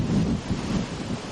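Strong sea waves churning at Mabini port, heard as a steady, loud low roar with rolling surges and wind buffeting the microphone throughout, no voices.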